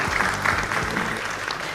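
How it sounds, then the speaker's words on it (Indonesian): Applause from a crowd at a provincial final of a school quiz competition: brisk, continuous clapping lasting under two seconds, fairly loud and even. "Tepuk tangan untuk kita semua."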